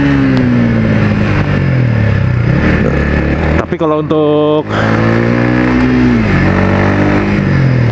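A Yamaha XSR 155 café racer fitted with an R25 exhaust revs loudly up and down close by, its pitch rising and falling through several throttle blips while someone talks over it.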